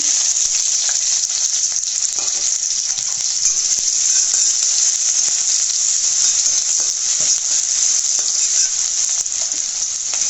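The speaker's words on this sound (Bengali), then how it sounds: "এখন আমি পেঁয়াজটা দিয়ে দেব।" Onion frying in hot mustard oil with whole spices, cardamom and cinnamon, giving a loud, steady, close sizzle that holds unbroken throughout, with faint stirring scrapes underneath and no voices.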